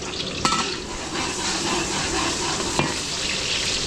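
Garlic and onion sizzle in a frying pan, a steady close crackle with a couple of sharp clinks from stirring.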